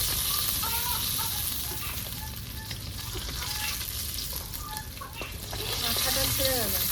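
Pabda fish fries in hot oil with a dense, steady sizzle and crackle, loud and close throughout, with a few faint spatula taps and some background voices.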